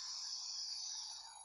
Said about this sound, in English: The bell is still dinging.